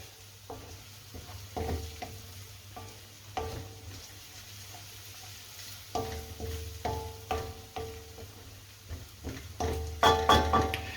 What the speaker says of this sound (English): And we'll just saute that for another minute